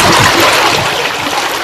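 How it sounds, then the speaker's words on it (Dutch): Floodwater rushes steadily into a house during severe flooding in Flemish Brabant, Belgium, a loud, continuous broadband gush of flowing water with splashing and trickling, heard up close and alone. "Het water komt heel snel binnen"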